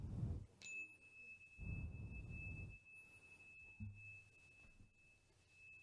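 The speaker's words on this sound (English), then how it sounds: "I'd like to ring the bell one more time to connect our hearts" A ceremonial bell at a Taino Caribbean Native American blessing gives one bright strike that keeps ringing as a long, steady tone, with low rumbles and handling noise beneath it.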